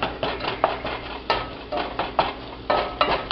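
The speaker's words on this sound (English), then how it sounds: "Just keep breaking the chunks of sausage into smaller pieces until you get them down to the size you most like." A spoon scrapes and chops through sausage browning in a cast iron skillet, giving repeated short metallic scrapes and clanks in an irregular rhythm over a soft sizzle, close and moderately loud, with no talking.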